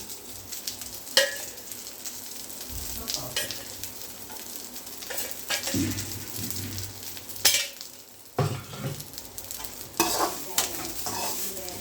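Steady oil sizzling as bitter gourd fries in a pan, with occasional stirring scrapes and clatters, close and fairly loud.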